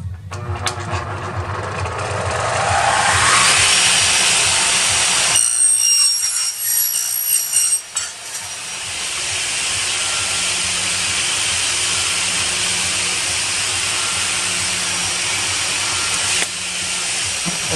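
A power saw whines loudly through aluminium window profile, a long high-pitched cut that drops off partway, then a motor hums on steadily at close range.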